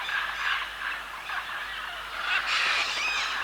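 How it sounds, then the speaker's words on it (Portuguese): A large flock of chestnut-fronted macaws and other parrots gathering at dawn on an exposed river clay bank, with continuous raucous squawking and screeching layered from many birds, steady and fairly loud throughout. "grandes bandos de araras anãs e outros papagaios juntam-se aqui em zonas específicas"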